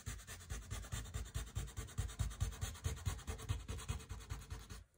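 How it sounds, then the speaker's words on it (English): Leather is rubbed with 320-grit sandpaper in quick, regular back-and-forth scratching strokes, close and steady, with no talking over it. "if you want to use some sandpaper, you need something reasonably coarse. That's a 320 I've just picked up there"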